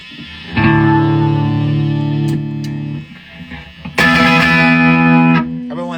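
Sustained electric guitar chords ring out with heavy reverb and a distorted edge, two long strummed passages separated by a short quieter gap.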